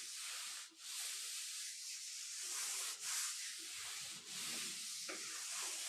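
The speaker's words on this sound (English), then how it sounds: "maybe rubbing the legs a little" Hands rub slowly along the legs during a relaxing yin yoga class, a steady soft brushing friction that runs near and continuous, with brief pauses in the strokes.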